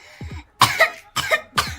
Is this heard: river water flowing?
no